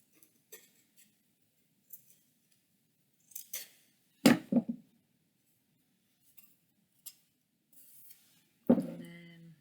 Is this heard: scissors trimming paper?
yes